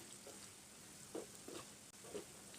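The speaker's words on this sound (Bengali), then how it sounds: "কালার করে কিন্তু ভেজে নিতে হবে" Gram flour snacks fry in a pan of oil at medium heat, a quiet, even sizzling hiss with a few soft bubbling bursts, close and without talking.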